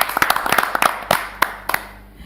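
Scattered hand claps from a small studio audience at a satirical television show, a few sharp near claps in an uneven burst that thins out and fades to quiet.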